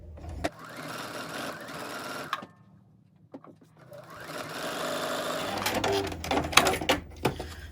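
Sewing machine running in bursts while stitching small fabric pieces in pairs for a reusable coffee cup sleeve, a steady close whirring that stops briefly midway then resumes with clicks and handling noise.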